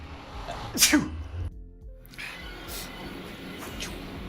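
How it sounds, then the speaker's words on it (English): A single sharp sneeze up close, followed by a brief silence and quiet background room noise. "I have to sneeze again."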